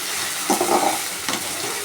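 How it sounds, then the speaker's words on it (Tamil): A single tomato being sautéed in a pan for a mutton pepper fry, giving a soft steady sizzle with a couple of brief stirring scrapes, close and moderately quiet, with no talking. "ஒரே ஒரு தக்காளி பழம் மட்டும் போட்டு அதையும் நல்லா வதக்கிக்கலாம்"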